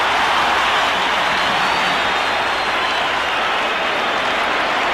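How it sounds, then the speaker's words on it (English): Dense, steady roar of a large crowd at a 1982 Thanksgiving NFL game between the Giants and Lions, loud and unbroken, like thousands cheering and clapping in a stadium. "And listen to the crowd."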